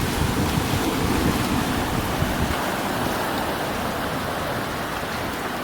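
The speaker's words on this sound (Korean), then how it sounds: "바닷물이 쭉 흘러오고" Seawater rushes steadily over the shore at Dadaepo Beach in Busan, a continuous broad wash, with wind noise buffeting the microphone.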